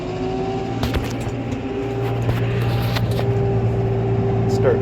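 Snow blower engine idling and revving on a snowy road, a steady droning hum that rises slightly in pitch and loudness, close by, with faint background noise.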